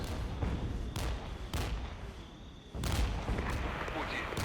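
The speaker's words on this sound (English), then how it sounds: "the mortars are aiming so fast" Mortar artillery in the game Regiments, a series of heavy booming blasts in quick succession, loud and close, with a dense rumbling wash between impacts.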